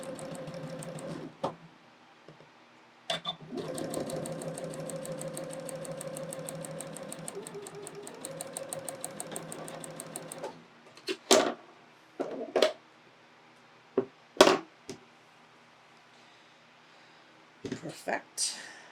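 A sewing machine runs in long steady bursts while quilt block rows are stitched together, its fast rhythmic needle chatter close and clear, then stops for a few short bumps and handling knocks.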